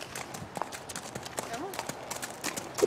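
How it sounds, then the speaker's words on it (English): A small Black Roan Walking Horse mare walks along, her hooves giving light, irregular clip-clops close by, with faint background voices and rustling. "This is an awesome little Black Roan Walking Horse mare named Emily, 8 years old."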